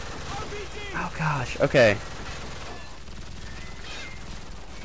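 Rapid gunfire and chaotic battle noise from the video game Black Ops 2 rattle beneath a man's startled speech, with a dense burst around the middle before the firing fades to a lower, steady din.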